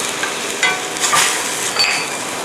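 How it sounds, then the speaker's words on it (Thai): Balsamic vinegar hits a hot pan and gets stirred while making balsamic sauce for shrimp-wrapped salmon, a steady close sizzle with brief louder bursts as the liquid lands and a spoon scrapes through. "น้ำส้มสายชูบาสมิกค่ะใส่ลงไปเลย"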